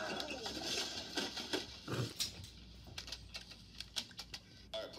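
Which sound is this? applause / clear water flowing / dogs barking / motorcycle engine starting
dogs barking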